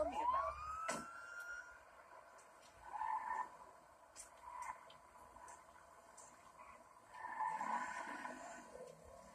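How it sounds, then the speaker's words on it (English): A police car siren wails faintly in a crime-themed open-world game, rising and falling in a few swells under distant ambient noise. "Police car."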